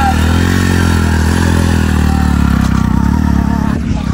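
A motorcycle engine revs hard and steadily as the bike climbs a steep off-road hill in the mountains, loud and close, with a continuous throaty drone and a slight drop near the end.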